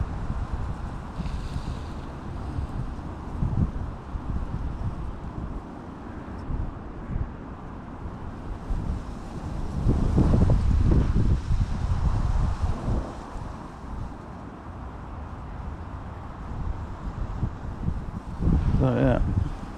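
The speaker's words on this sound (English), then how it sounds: "15, 18 mile an hour wind with 30 mile an hour gusts," Strong wind, around 15 to 18 mph with 30 mph gusts, buffets the microphone at a fishing lake in rough, irregular gusts, swelling into heavy blasts around the middle and again near the end.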